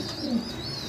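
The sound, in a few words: pigeons cooing at a farm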